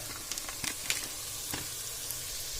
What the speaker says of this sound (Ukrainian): І перемішуємо. Перемішувати треба хорошо, щоб паприка не подгорала.